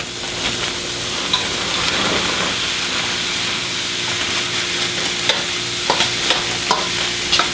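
Cooked rice, peas, carrots and mushrooms stir-fried in a hot pan, giving a steady close sizzle and hiss broken by scraping and stirring knocks.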